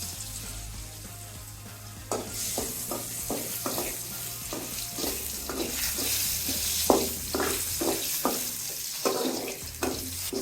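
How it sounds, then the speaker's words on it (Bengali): Potatoes frying in a pan with turmeric and salt, a steady sizzle with repeated scraping stirs at a quick irregular rhythm, close and fairly loud with no talking. "আলুগুলো ভেজে নিচ্ছি"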